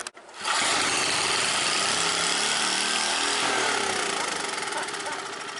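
Vintage scrapyard generator engine roars up abruptly and holds a loud, high, over-revving drone with a harsh mechanical buzz, easing slightly toward the end.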